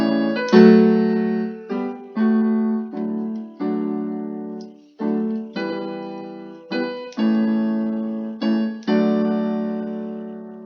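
Piano harmonisation with a melody over full chords packed into the left hand, played as a run of separate, sustained chord strikes that ring and decay, with a fumbled passage near the middle, solo and close.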